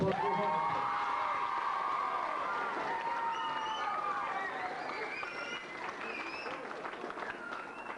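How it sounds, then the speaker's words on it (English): An audience at an evening ceremony honouring a GAA team with the McCarthy Cup bursts into applause, loud at first, then tapering, with cheers and whoops rising over the clapping. "So a big round of applause for those lads."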